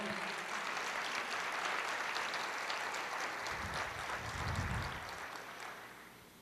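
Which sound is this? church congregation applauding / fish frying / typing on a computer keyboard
church congregation applauding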